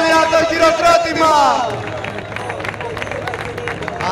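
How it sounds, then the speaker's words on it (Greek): Crowd cheering and applauding the winners of an under-18 men's 3x3 basketball final in Kavala, with an announcer talking over the start before broad clapping and crowd noise fill the space. "Πάμε να δίνουμε το χειροκρότημα."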